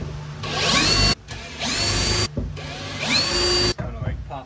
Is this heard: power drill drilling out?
yes